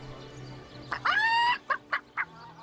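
Chickens in the video game Divinity: Original Sin: a drawn-out squawk followed by three short clucks, close and clear over a quiet ambient background.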